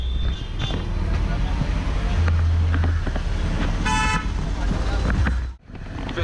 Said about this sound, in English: Time on a tuk-tuk here in Hyderabad.